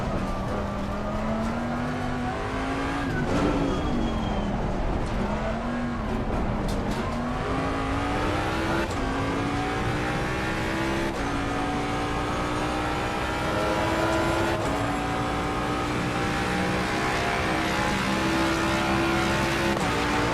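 Ford Mustang engine in the Assetto Corsa racing game, a steady loud drone that rises and falls in pitch through gear changes, continuous throughout with no talking.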